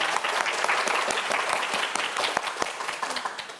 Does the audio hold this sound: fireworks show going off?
no